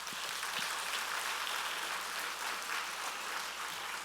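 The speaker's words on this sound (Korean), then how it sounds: "하나님께 영광의 박수." A church congregation applauds during a Sunday evening worship service, a steady wash of many hands clapping at moderate distance that continues evenly throughout without pause.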